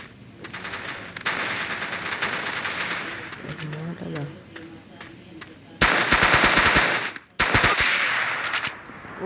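Rapid machine-gun bursts ring out in a mobile shooting game, loud rattling volleys broken by short pauses, with a player talking under the firing.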